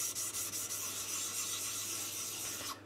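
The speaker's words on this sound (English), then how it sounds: "I like to start on the coarse stone." Steel knife blade scraped steadily back and forth across a King G-45 220 grit coarse whetstone, a continuous close gritty rubbing with faint rhythmic stroke pulses and a low steady hum underneath.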